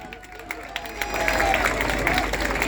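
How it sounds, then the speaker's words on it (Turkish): Crowd applause and cheering at a Republican People's Party (CHP) centenary rally in Turkey, rising after the first second into a steady, loud wash of clapping with crowd noise. "Bu ülkede Cumhuriyet Halk Partisi'nde kadın arkadaşlarımı özellikle alkışlamanızı istiyorum."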